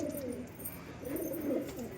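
Pigeons let loose in a loft coo continuously, low and throaty, close by and fairly clear, with no voices over them.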